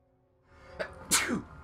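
A single person sneezes up close, a short inhaled catch followed by a sharp explosive burst, against a quiet background during a Crysis 2 gaming session.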